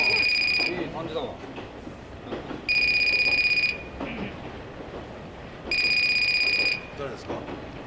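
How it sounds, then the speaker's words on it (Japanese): A telephone rings in three loud, bright electronic bursts about one second each, spaced several seconds apart, with quieter room noise between them. "電話鳴ってますよ。"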